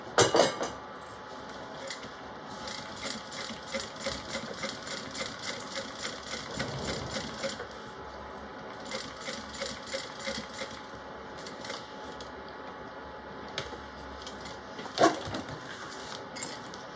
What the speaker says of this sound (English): So we're going to top stitch here 1/8 of an inch from the fold.